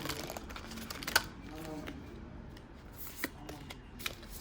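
Quiet riffling and soft slaps of tarot cards being shuffled by hand, with a few sharper snaps, close and intimate.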